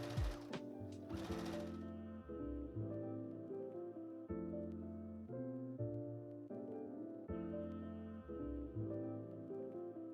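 A sewing machine runs in steady stitching bursts along the edge of a coat collar, its mechanical whir stopping and restarting several times, close and fairly quiet, with a short rustle of fabric at the start.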